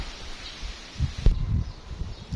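Strong storm wind gusts through trees and bamboo outdoors, a rough rushing rustle of leaves with low buffeting blasts swelling midway, close and fairly loud, no voices.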